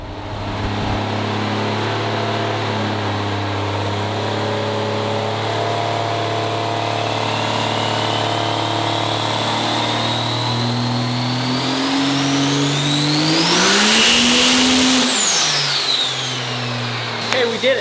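A triple-turbo Cummins diesel roars loud and steady on a chassis dyno, building to a high-rpm peak with a rising turbo whine, then dropping off sharply near the end.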